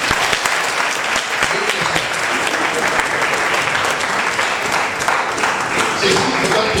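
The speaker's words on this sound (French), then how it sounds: "Est-ce qu'on peut applaudir monsieur?" A crowd at a civil wedding ceremony bursts into dense, steady applause that stays loud and even throughout, with a faint murmur of voices underneath.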